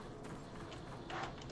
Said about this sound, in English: Those horses that you hear, they're a bit of a monster.